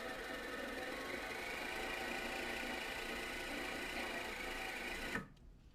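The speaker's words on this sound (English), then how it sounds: "The motor works, and so does the speed control." Small CNC spindle motor from a surplus auction running steadily with a close, even mechanical whir and hum that stops abruptly near the end.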